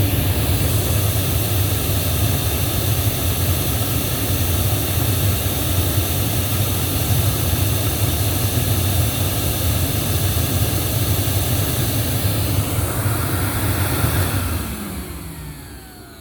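A Hoover C2401 backpack vacuum runs as a steady, loud motor whine with a broad airflow roar, holding constant for about fourteen seconds before winding down near the end.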